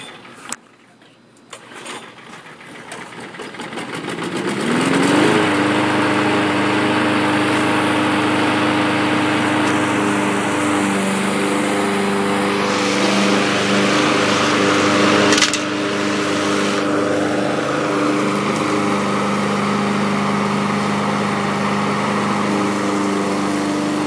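A serviced push lawn mower engine is cranked and catches after a few seconds, then runs at a steady, loud, close drone with no talking over it.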